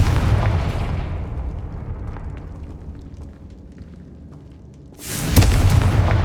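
Confringo spell explosion in the video game Hogwarts Legacy, a loud rumbling boom that fades over several seconds before a second sharp, bright blast erupts near the end.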